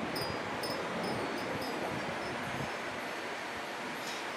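Steady outdoor wind blows in a continuous broadband rush with faint rustling, loud and close on the microphone throughout, with no talking.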